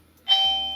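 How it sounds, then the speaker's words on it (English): Ding-dong chime from a Lindo 2K dual camera video doorbell set to maximum volume, a single loud bright tone that rings out and slowly decays. "my favorite is the ding dong, which is what I leave"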